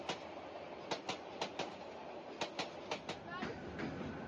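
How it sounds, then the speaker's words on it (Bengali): Clickety-clack of a passing train crossing at a station in Bangladesh, heard from aboard the Agnibina Express on the Dhaka to Mymensingh route, with rhythmic wheel thumps over rail joints against a steady rumble. "এর কিছুক্ষণ পরে আমাদের সাথে যে ট্রেনটির ক্রসিং হওয়ার কথা ছিল সেটি চলে আসছে"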